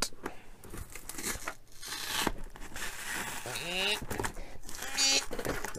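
Scissors or a blade cutting into a mail package, crinkling and tearing the wrapping with a steady rustle while a person talks over it.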